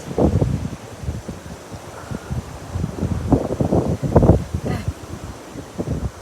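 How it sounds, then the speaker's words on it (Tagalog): Strong gusting wind buffeting the microphone on a high mountain top, loud irregular bursts of roaring rumble throughout. "Maangin na dito kasi abagat."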